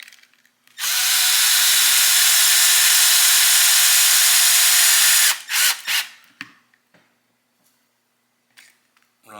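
A power driver whirs steadily for about four seconds as it runs a screw into an RC car chassis, then stops. A few brief clicks and taps of handling parts follow, then near quiet.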